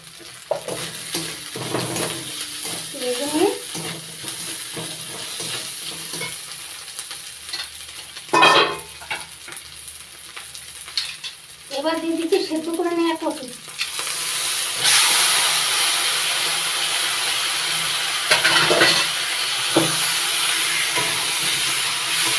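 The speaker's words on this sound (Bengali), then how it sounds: "আদাটা ভেজে নিয়ে এবার দিচ্ছি কাঁচা লঙ্কা চেরা" Onion, garlic, ginger and slit green chillies fry in hot oil with a continuous loud sizzle and hiss, broken by stirring scrapes and a few brief voices, the sizzle swelling louder toward the end.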